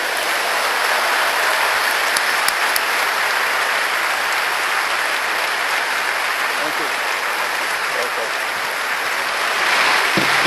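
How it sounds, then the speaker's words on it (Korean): A church congregation gives warm applause to welcome a visiting pastor from Ghana at a Friday night conference service. The clapping is broad and steady, filling the room for the whole stretch. "뜨겁게 박수해 주세요."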